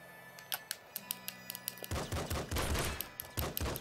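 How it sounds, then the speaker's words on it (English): Gunfire in the video game Nuclear Throne: a rapid string of sharp, clipped shots in an uneven rhythm, close and loud, over a dense, noisy burst of game action. "when you're standing next to a wall, the freaking gun shoots like"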